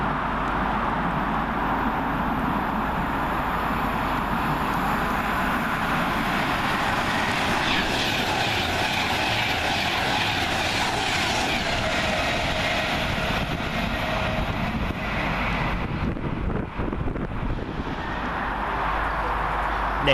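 An Avanti West Coast Class 390 electric train runs southbound through Milton Keynes Central station on a Liverpool Lime Street to London Euston service, a loud sustained rumble and rush of wheels and air that stays steady throughout, then eases slightly near the end.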